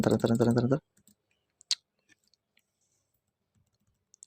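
A single sharp click of the Enter key on a computer keyboard, close and crisp, comes just after a brief voice, then a few faint taps in a quiet room.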